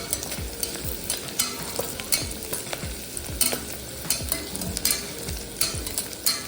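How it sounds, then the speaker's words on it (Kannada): Ginger frying in oil in a pressure cooker for vegetable pulao, a steady close sizzle with repeated scraping stirs of a spoon or spatula against the metal pot at a regular rhythm, with no voices. "ಶುಂಠಿ ಹಾಕಿ ಸ್ವಲ್ಪ ಫ್ರೈ ಮಾಡಬೇಕು."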